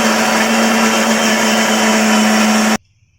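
Fried onion is ground to a paste in a small blender jar, a loud steady motor whine running without a break before cutting off abruptly into near silence.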